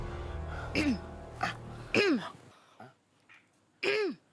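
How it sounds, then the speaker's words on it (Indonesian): A few short coughs with a raspy, throaty edge, spaced apart in a quiet room, with a bit of low background noise at the start. "Batuk."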